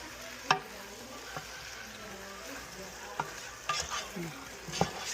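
Pork hock sizzles in a pan with tomatoes as it sautés, a steady close frying hiss broken by several sharp clinks and scrapes of a utensil stirring, with no talking.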